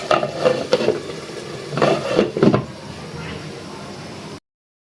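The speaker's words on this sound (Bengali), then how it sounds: "মশলা সুন্দরভাবে কষানো হয়ে এলে হাঁসের মাংস দিয়ে ঢাকনা দিয়ে ডেকে" Duck meat is stirred and sautéed with spices in a pot in a home kitchen, giving a few close scraping and stirring bursts over a low sizzle before the sound cuts off abruptly.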